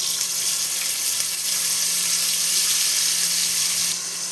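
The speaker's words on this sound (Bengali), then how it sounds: "এটা এখন ভেজে নেব হালকা করে।" Cauliflower florets, salt-water steamed and drained, fry lightly in hot oil in a pan for a Bengali dim kophi dalna, giving a steady, close hiss of sizzling that holds evenly and eases off slightly at the end.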